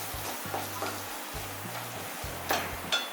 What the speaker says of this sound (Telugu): దీనిలో గరం మసాలా పౌడర్ వేసుకోవాలి. వేసుకుని బాగా కలియబెట్టుకోవాలి.